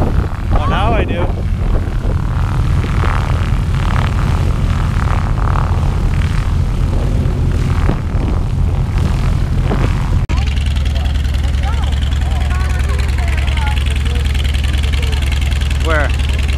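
Airplane engines run steadily at an airshow, a loud continuous propeller drone that shifts in tone partway through, with people chatting nearby over it.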